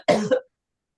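A single short, sharp cough, close and fairly loud, with a brief second burst before silence.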